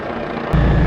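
A helicopter hovering among mountains at an alpine airshow, heard as a continuous close rotor and engine drone that swells abruptly louder and deeper halfway through the brief moment.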